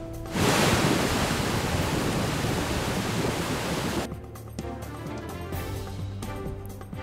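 Loud, dense roar of flooded rivers in Maharashtra rushing bank to bank, filling the first four seconds, then cutting to a quieter, different background with faint clicks.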